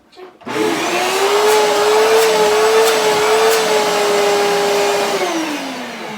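A large suction vacuum switches on and runs steadily as a loud, close, constant whine with a strong motor drone, then begins winding down near the end.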